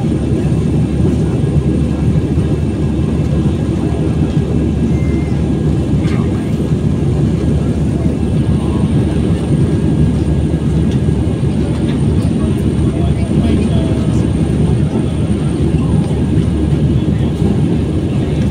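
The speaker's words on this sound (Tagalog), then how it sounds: "Natatakot ako kasi minsan sumasayaw yung aeroplano." Steady, loud airplane engine roar heard from inside the cabin, a constant broadband drone running the whole time with no clear breaks.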